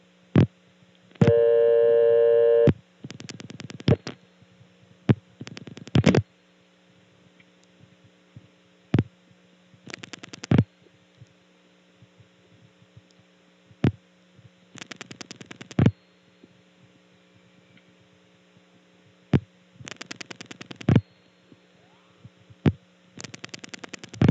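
Vacant number tone from a small 1976 crossbar telephone exchange with a Canada ring tone plant: short tone bursts and clicks repeat every few seconds over a steady line hum, heard alone on the line.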